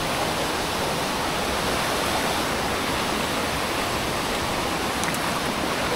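A narrow jungle river flows with a dense, even rushing hiss, steady and unbroken like a small waterfall, close by, with no voices.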